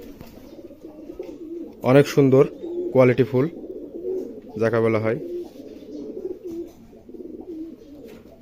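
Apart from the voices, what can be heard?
green Giribaz pigeons cooing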